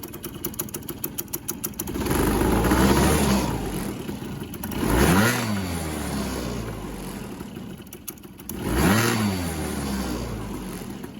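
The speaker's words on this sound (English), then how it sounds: "What we can do is rev it up, and we can watch how this will expand, that will pull in." A scooter engine fitted with a variator revs hard from a steady idle in repeated surges, its pitch sweeping up and falling back each time, loud and close with no talking.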